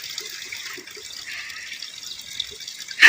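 A tap runs water for washing clothes, a soft steady trickle with faint splashes and a brief louder gush at the end.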